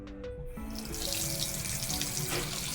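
Water gushes steadily from a newly installed bathroom faucet into the sink, a loud, even hiss that starts after a couple of soft taps and runs without a break.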